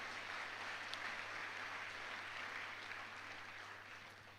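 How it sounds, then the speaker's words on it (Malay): Faint, steady applause from a crowd, heard at a distance over a low electrical hum, fading slightly at the end. "Satu tepukan dulu untuk organisasi saya."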